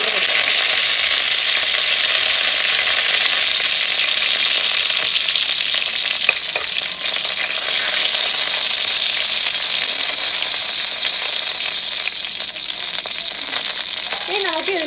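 Cardamom, cloves and three dried red chillies fry in hot oil for a Kerala-style duck curry, a loud continuous close hiss and crackle, with a voice speaking softly underneath.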